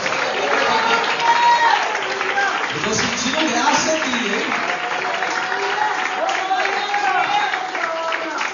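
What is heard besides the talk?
applause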